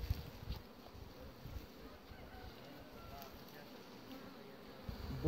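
Honey bees buzzing around an open beehive kept for royal jelly production: a steady, dense, low hum of many insects, fairly close, with some wind rumble and no talk.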